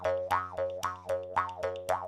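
A Papua New Guinea susap jaw harp is plucked in a steady rhythm, five twangy boinging notes with sweeping vowel-like pitch bends over a constant low drone, close and clear with no voices.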